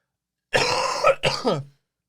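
Two quick, harsh coughs close to the microphone, the second shorter, followed by silence.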